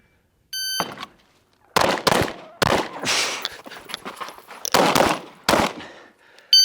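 Glock 19 pistol shots ring out during a movement and target-transition drill, about six sharp, loud cracks spaced irregularly with short echoing tails, preceded by a faint electronic timer beep.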